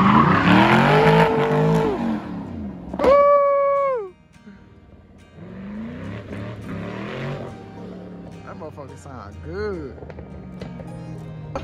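Infiniti G37 engine and exhaust revving hard, the pitch climbing and then dropping, with a sharp high rev flare in the middle and a lower idle after it, while people talk over the sound.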